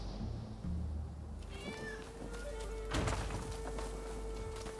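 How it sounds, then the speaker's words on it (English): Cat meowing inside the video game Rise of the Ronin, a few drawn-out meows over a steady ambient game soundscape, moderately close and clear with no talk over them. "I just heard a cat."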